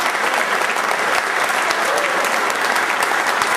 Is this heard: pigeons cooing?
no